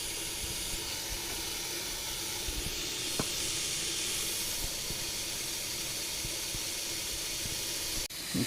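Water from a garden hose pours into the radiator of a 2001 Ford 7.3 diesel Super Duty, a constant close hiss of flowing water with a faint click midway and a brief clunk near the end.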